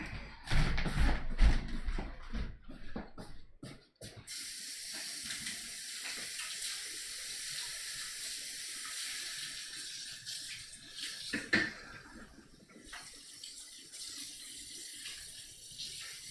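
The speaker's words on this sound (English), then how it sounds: "Gonna wash my hands again." Tap water runs into a sink during handwashing, starting with louder splashing and clatter for the first few seconds, then settling into a steady, continuous hiss of flowing water at close range.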